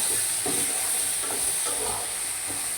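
Prawns fry in a pan on a stove beside a pot of spinach curry, a steady loud hiss with soft stirring scrapes and occasional bubbling pops throughout.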